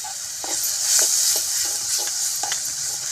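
Tomato masala for kurma fries in oil with a bright, steady sizzle, while a spoon stirs it in regular soft scraping strokes roughly every half second.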